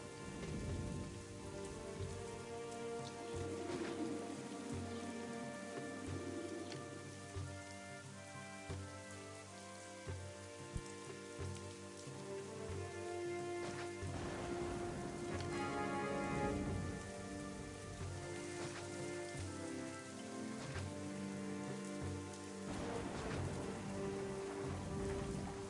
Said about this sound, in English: we've got rain now